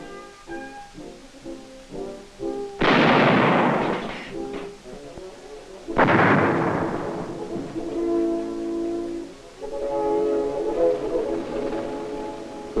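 Army trainees in Taiwan live-fire artillery with realistic powder charges: two loud, separate booms, each followed by a long rolling rumble that fades away.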